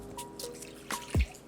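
Sparkling water is poured for a tempura batter in a kitchen, giving a few quick drips and splashes that end in a louder pour and fizz near the end.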